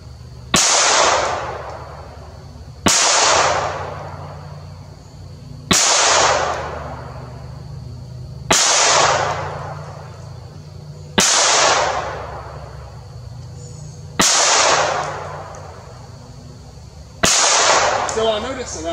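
A Ruger MKIII 22/45 slab-side pistol fires seven loud, sharp shots at a target 15 feet away, spaced roughly every three seconds, each crack trailing off in a short echo.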